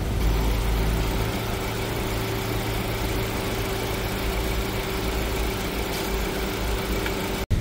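A 2018 Suzuki Ertiga GLX engine idles steadily with a low, even hum and faint vibration, heard at close range for several seconds and ending in a brief click.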